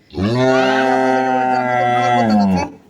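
Holstein Friesian cow giving a single long, loud, close moo lasting over two seconds, steady in pitch before fading out.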